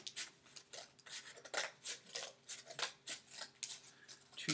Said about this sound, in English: you can cut those, being careful, because this is cardboard, and you're probably using stronger scissors